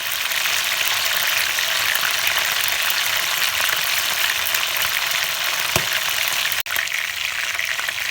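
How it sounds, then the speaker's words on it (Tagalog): Chicken pieces fry in a pan over low heat with a steady, even sizzle that holds without a break, close and fairly loud, with a faint clink near the end. "On the same pan, let us cook our chicken until slightly golden brown or 5 minutes on each side."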